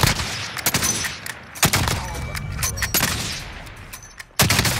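Sharp gunshots in Call of Duty: Modern Warfare, loud and near, firing in irregular bursts of single cracks spaced across a few seconds, with background action noise between them.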